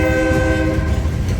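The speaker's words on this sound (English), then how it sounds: "I love the horn on that." Loud, steady blast of a Canadian National work train's horn, a sustained multi-tone chord holding close for the whole moment over the low rumble of the locomotive.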